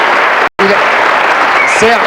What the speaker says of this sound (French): Applaudissements pour ces animaux